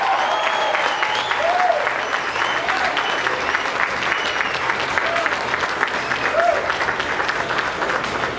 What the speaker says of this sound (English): one more round of applause for your entire wedding party